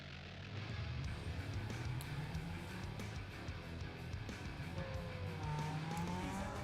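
A car drives in a video game, its engine droning and rising in pitch with gear changes, with tire noise and a continuous loud motor sound close by throughout.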